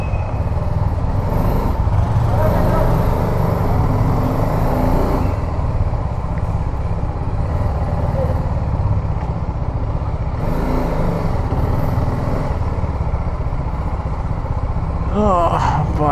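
An Apache RR310 motorcycle rides through Hyderabad city streets at night, giving a steady engine and road rumble with wind noise and passing traffic, plus a brief rising whine near the end.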